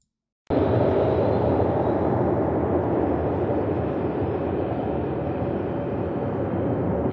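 A World of Warcraft Nazjatar ambient sound effect sample: a broad, steady rushing wash that starts abruptly after a brief silence and holds at an even level, with no voices.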